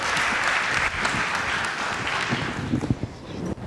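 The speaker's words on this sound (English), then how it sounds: "Big round of applause." An audience at a women's leadership event claps in a big steady round of applause, dense and close, thinning slightly toward the end as a few louder claps and murmurs come through.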